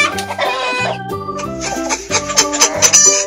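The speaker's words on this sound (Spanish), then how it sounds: "Gallina." Hen clucking repeatedly in short rhythmic bursts, close and clear, alongside bright tonal sounds, with no talk.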